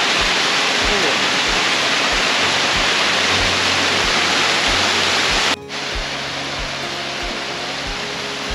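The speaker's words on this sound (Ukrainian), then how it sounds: "І файний, гарний водоспад." A steady, loud roar of rushing water from a nearby waterfall in the Carpathian Mountains near Vorokhta, continuous throughout, with a brief dip partway through and faint low thumps underneath.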